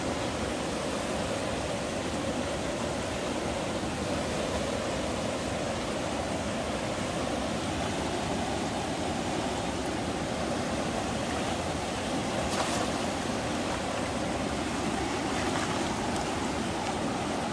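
A flooded river roars steadily with rushing water, a loud, continuous broadband wash filling the scene from start to end with no voices rising above it.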